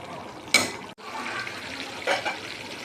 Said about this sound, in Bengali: তো আমি এখন জল দিয়ে দিচ্ছি, হাফ বাটি মতন জল দিয়ে দিচ্ছি।